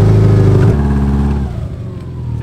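A Subaru with oversized truck wheels and a damaged front end revs up as it pulls away, a loud, steady mid-pitched engine drone that drops back after a moment and hums on.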